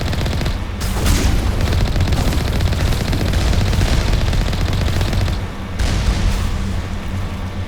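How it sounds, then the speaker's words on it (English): A vehicle-mounted machine gun in Mass Effect fires in a sustained, loud, dense stream of shots with barely any let-up, briefly dipping near the end before resuming. "Just keep firing, I'm gonna focus on driving. And try not to overheat the machine gun."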